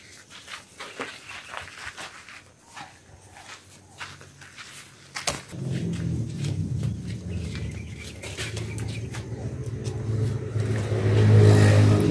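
A car engine revving nearby, with a low rumble that swells partway through and grows louder toward the end, with faint birdsong and footsteps heard earlier.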